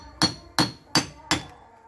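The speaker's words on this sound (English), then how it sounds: "Now we can hear. Stone is breaking." A small hammer strikes a stone four times in an even rhythm to break off a piece, each blow a crisp, sharp tap with a short ring, close and fairly quiet, no talking.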